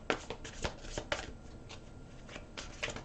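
A deck of angel cards is shuffled by hand in quiet, uneven bursts of riffling and flicking slaps, soft and close with no voice.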